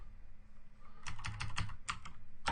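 Typing PowerShell code on a computer keyboard, a quick cluster of close, crisp keystrokes followed by a few more separate taps, with no talking.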